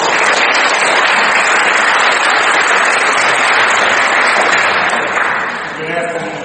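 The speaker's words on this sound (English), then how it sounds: "Let's give him a round of applause." A large audience gives a round of applause to a county judge being introduced at a meeting, dense loud clapping sustained for about five seconds before it thins and fades.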